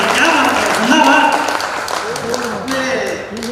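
Audience applause at a Hindi poetry recital by Kavi K D Bindas, heard as a steady, crackling clatter of many hands under a voice that talks over it throughout.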